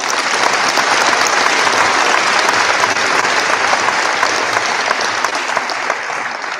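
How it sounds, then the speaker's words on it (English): Sustained, dense applause from a large audience at a high school senior awards night, loud and steady throughout with no voices over it, easing only slightly toward the end. "Give them a round of applause."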